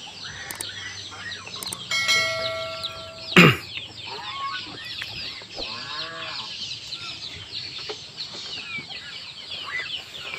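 Bangkok gamecocks on a poultry farm cluck and squawk continuously nearby, with wing flaps and one loud sharp burst partway through, layered calls from several birds filling the yard.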